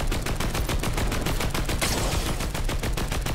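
Rapid, loud automatic gunfire in a video game, with evenly spaced shots hammering steadily for several seconds and no talking.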